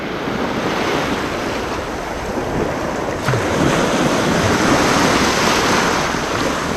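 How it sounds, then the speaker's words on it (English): Stormy April surf at Lido Beach North, with ocean waves breaking and churning in a continuous loud roar and strong wind buffeting the microphone throughout. "the waves are slightly bigger and it is starting to churn things up"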